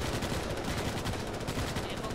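Continuous distant gunfire in the sci-fi shooter Starship Troopers: Extermination, a dense steady rattle of shots with no pauses, fairly faint overall.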